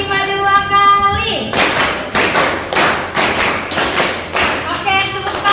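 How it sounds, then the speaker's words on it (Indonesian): A school class clapping in unison, several sharp group claps in a regular rhythmic pattern after a brief stretch of voices, loud and close in a classroom. "Tepuk 5 2 kali."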